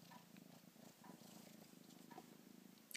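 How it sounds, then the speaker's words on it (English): A cat purring softly and steadily up close, a low rhythmic rumble with a faint scratch at the end. "The cat."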